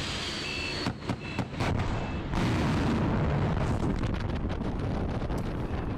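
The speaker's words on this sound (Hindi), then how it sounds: "रूस के रक्षा मंत्रालय का बड़ा दावा, मिलिट्री एकेडमी पर लॉन्ग रेंज मिसाइल अटैक किया गया।" Explosions from a long-range missile attack on a military academy, heard as a loud, continuous broadband roar with wind buffeting the microphone and a few sharp cracks early on, with no voices.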